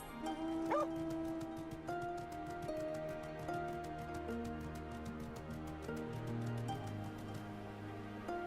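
A dog in the video game Final Fantasy XIV barks and yips in short, fairly quiet bursts over a steady, tonal game music and ambience bed.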